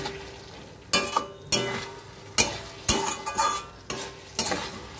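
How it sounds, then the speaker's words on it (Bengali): Fish muri ghonto sautéing in a pan sizzles steadily beneath repeated, irregular scraping stirs of a spoon, several loud close strokes spaced about a second apart, with no voices. "এবার একটু এটাকে মিনিট 2-3 ভালো করে কষিয়ে নেব"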